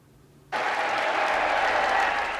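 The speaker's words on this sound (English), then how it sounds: "Cheering and clapping" Applause and cheering from a crowd at an SNP party event burst in suddenly after a quiet moment, then continue as a loud, dense, sustained roar of clapping.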